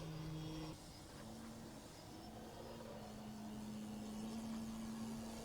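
Engine of a large 85-inch Skywing Extra NG RC aerobatic plane held in a Harrier maneuver, a steady droning tone with a pitch shift near the start, continuous and moderately loud with no talk.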